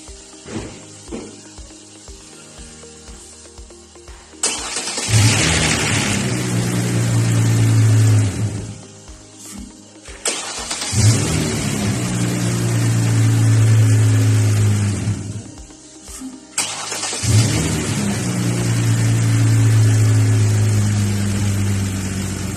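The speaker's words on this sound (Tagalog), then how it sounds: "Tingnan nyo kung andar, pakinggan nyo andarin ko." A car engine cranks and fires up after its faulty PCM relay is replaced, with three start attempts each catching into a steady idle that runs for several seconds before cutting off.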